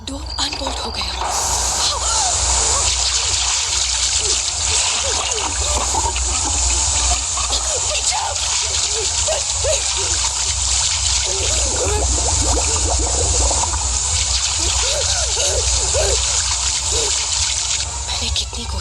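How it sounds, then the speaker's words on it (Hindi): Water gushing and splashing as a horror story sound effect, a loud continuous rushing flow with bursts of splatter, while someone narrates over it nearly the whole time. "पर ये पानी आ कहां से रहा है?"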